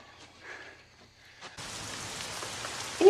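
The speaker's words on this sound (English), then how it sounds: "It rained so fast there." Heavy rain in a TV show scene suddenly starts pouring as a steady, dense hiss after a quieter opening, with rain drumming on surfaces and a loud splash near the end.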